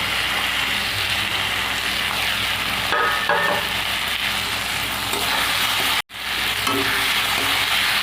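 Crushed neem leaves and fried brinjal sizzle and spatter in hot oil in a pan, a loud, continuous close-up frying hiss with faint stirring scrapes and one brief cut near the end.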